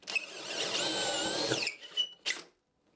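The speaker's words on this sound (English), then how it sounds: "So I use a Forstner bit to drill that out to make sure the tenons will seat properly." A power drill with a Forstner bit whines for about a second and a half, rising in pitch as it drills glue out of a chair's tenon hole, then stops, followed by two short bursts of the motor.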